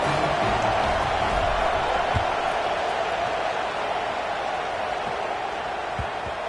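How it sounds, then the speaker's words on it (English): A stadium crowd in an NCAA football video game roars steadily in a continuous, moderately loud wash of cheering, holding throughout with slight dips and no clear individual voices. "this crowd now ready to get behind them"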